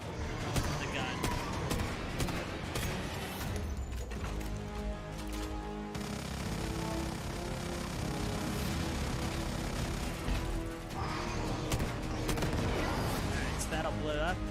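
Rapid gunfire bursts from a Gatling gun in a video game boss fight against a Foul Shadowhunter, dense and continuous with sharp impacts, mixed with game effects and talk.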